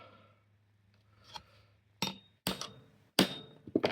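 A hammer strikes a hole punch through gasket material in a quiet workshop, giving several sharp, close metallic whacks in quick succession after a brief faint tap.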